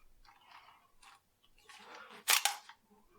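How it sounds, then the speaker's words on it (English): Metallic shell release clicks and a bolt being locked back on a Pardus SL shotgun, heard close and faint as soft handling scrapes followed by a sharper double click near the end. "I'll press that shell release, lock the bolt back, and I can remove the barrel."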